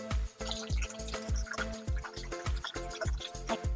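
Basmati rice is swished around in water by hand, making quiet, rhythmic sloshing and splashing about three times a second.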